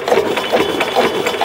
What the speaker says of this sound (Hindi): यह बहुत ही फास्ट और पावरफुल इंजन, और कभी भी बैठता नहीं है कितनी भी लोड हो।